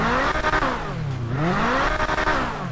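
A McLaren sports car engine in GTA 5 revs up and down in smooth, rising and falling sweeps, loud and continuous throughout.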